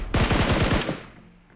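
Automatic gunfire in the mobile battle royale game PUBG Mobile: a quick burst of about eight rapid shots, followed by a short fading echo.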